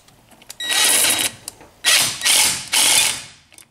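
A ratchet cranks down on an intercooler pressure tester in the engine bay where the air filter sits, giving loud, close clicking bursts separated by short pauses, with no voices.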